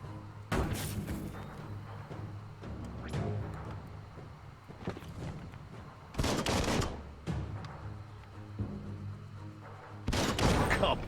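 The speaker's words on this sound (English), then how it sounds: "Shoot it and watch it blow." An explosive barrel blows up in the Biomutant video game, with several loud, sharp blasts bursting out at intervals over a rumbling background of gameplay sounds.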